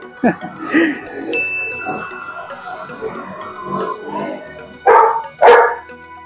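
A dog barks a few times amid people talking nearby, with two sharp, loud barks near the end.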